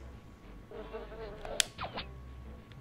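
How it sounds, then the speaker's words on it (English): Buzzing bee swarm sounds from the Power Rangers Lightspeed Rescue video game, brief insect-like whines and buzzes with a few sharp blips, fairly quiet, no talking. "Okay. Bees."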